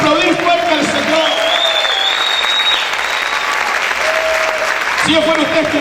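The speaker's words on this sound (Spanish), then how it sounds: "Vamos a aplaudir fuerte al Señor." A church congregation applauds loudly and continuously as a preacher's voice carries over the clapping.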